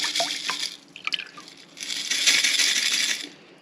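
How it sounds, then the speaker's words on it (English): Soaking water strained off swollen sprouting seeds, a steady splashing pour with brief dripping and rattling in between, close and fairly loud. "strain out our water."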